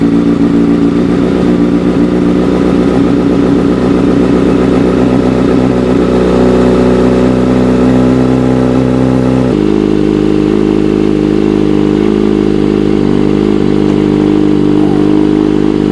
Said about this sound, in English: All right, so let's start the engine.